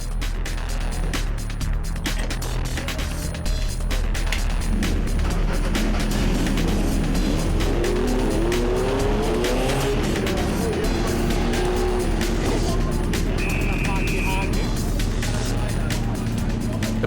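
VW Cup race cars roaring off the start at Killarney circuit, a dense wall of engine noise with rising gear pulls and tire sounds as the pack heads toward the first corner, with a commentator talking over it.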